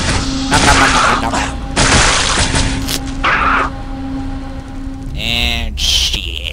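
Turret gunfire in Aliens versus Predator 2 during the Alien campaign comes in loud, long automatic bursts separated by short pauses, with a steady mechanical hum underneath and a whining electronic sweep near the end.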